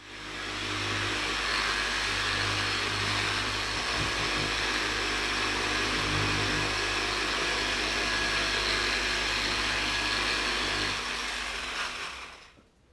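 A machine polisher buffs car paint indoors in a living room, a steady, loud motor whir running almost unbroken for about twelve seconds before winding down at the end.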